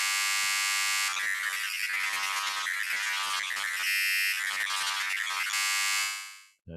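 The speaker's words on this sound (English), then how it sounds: "now this is a wavetable using the dinosaur sound" A wavetable instrument on an MPC Live, built from a dinosaur sound, plays a bright, buzzy sustained synth tone that shifts in timbre across a few held notes before cutting off.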